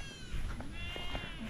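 A goat bleats near a rural home in the late afternoon, a short wavering cry over steady low background rumble and noise, no talking.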